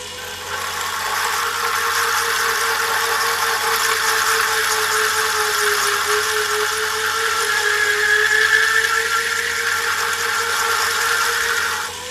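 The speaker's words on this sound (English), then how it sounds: "I'll stop the motor now so we can have a look." Agni electric motor spinning steadily with its commutator being cleaned, a continuous close whirring hum with a rising high whine near the end, no talk over it.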